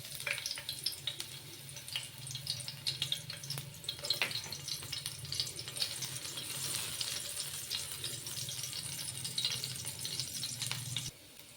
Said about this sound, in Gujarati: તીખી મિરચી એડ કરશું